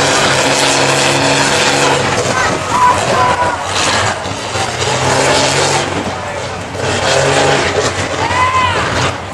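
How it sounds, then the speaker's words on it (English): Monster truck engine roaring at a truck pull event, loud and sustained with surging revs and banging, a commentator talking over it throughout. "Whole lot of pumping and a banging going on underneath the riding high truck."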